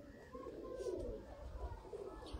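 Low, soft cooing from a Sialkoti pigeon, a green-pearled male bird, repeats in a steady murmur over about two seconds. It is close and moderately loud, with no voices.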